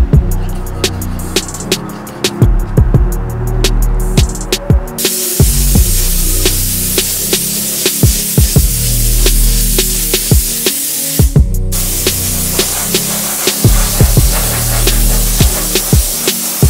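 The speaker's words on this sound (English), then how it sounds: "I'm gonna mix up some epoxy primer and coat this, put a couple coats on this area just to cover up the bare metal" Epoxy primer sprayed from a spray gun onto the bare metal of a Toyota pickup's engine bay, loud, close and hissing in long bursts broken by short pauses and trigger clicks.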